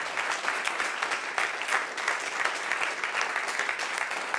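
Comedy club audience applauding a stand-up comedian, steady dense clapping at a moderate distance that holds evenly throughout without talk.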